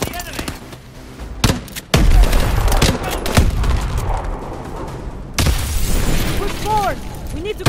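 Dense bursts of rapid gunfire in the futuristic shooter Call of Duty Advanced Warfare, loud and close, mixed with booms and shattering impacts, while soldiers shout over the battle.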